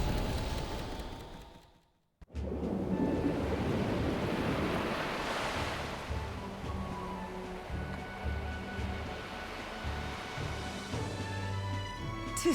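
Ocean waves at sea in the video game Metaphor: ReFantazio, a steady surging wash of surf and wind after a brief silent gap, with a low rhythmic hum from the moving ship beneath.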